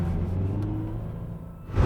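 Subaru BRZ TS engine on a race track, a steady low rumble with a faint rising rev tone, loud and close, building slightly at the end.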